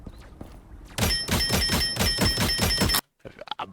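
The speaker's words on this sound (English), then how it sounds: "The headshot noise." A headshot sound effect from the Marvel Rivals shooter: a fast series of punchy, metallic thunks with a ringing high tone held over them, lasting about two seconds, then cutting off abruptly into quieter game noise.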